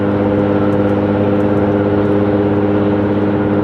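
Steady engine and exhaust drone from inside an Infiniti G37 sedan with a Motordyne Shockwave catback exhaust at 60 mph up a slight hill, a continuous mid-pitched hum with road noise, no talking.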